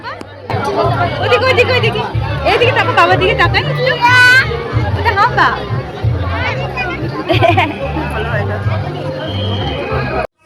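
Dense crowd chatter fills a Durga Puja pandal during Saptami, with overlapping voices, children's calls and a steady low rumble of the throng, loud and continuous throughout.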